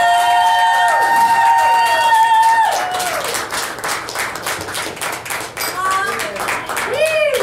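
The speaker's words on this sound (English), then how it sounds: "give a round of applause to the happy couple" Applause and clapping from a crowd at a live music night in a tavern for a newly married couple, starting under a fading sustained band chord and voice, then dense hand claps with a few cheers and talk mixed in.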